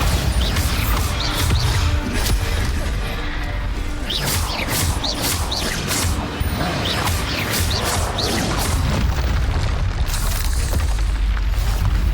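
Bombarda spell blasts in the Hogwarts Legacy video game, dense overlapping booms and crashing impacts with bursts and debris over constant loud combat noise, sustained for the whole stretch.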